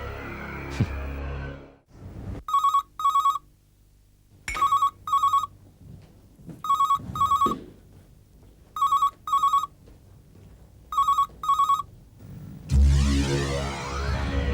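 A telephone rings in repeated double bursts, about five rings with short gaps, loud and clear against a quiet background, followed by a burst of noise.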